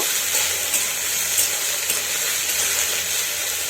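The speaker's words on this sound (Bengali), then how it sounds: "রুটির টুকরোগুলো একটু ভাজা ভাজা করে নেব" Steady, even sizzling of bread pieces frying in hot oil in a pan, a continuous crackling hiss with no voices.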